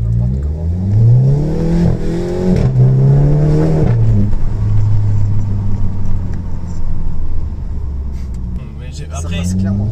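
A Volkswagen Golf GTI engine revs hard on a bumpy road, its pitch climbing through several rising sweeps before settling into a steady drone, heard from inside the car with people talking over it.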